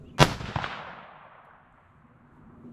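A 6mm ARC rifle firing a Sierra bullet load during a load test: one sharp, loud shot with a quick second crack and a long fading echo outdoors.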